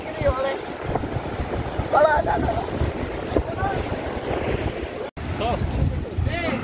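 Dangerous sea waves surge and break at Sandspit beach, Karachi, during net fishing, giving a steady roar of surf with wind buffeting the microphone; people talk over the water noise throughout.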